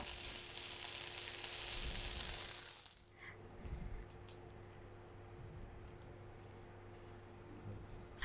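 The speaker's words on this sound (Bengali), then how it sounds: "আমি মিডিয়াম এবং লো আঁচে মাংসটাকে 2-3 মিনিট ভেজে নিব" Meat fries in a pan over medium-low heat, giving a bright, steady sizzle for about three seconds that then cuts off, leaving a quiet room with faint stirring scrapes.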